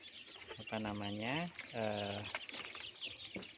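Chickens cluck and call close by, two drawn-out vocal calls followed by softer scattered clucks.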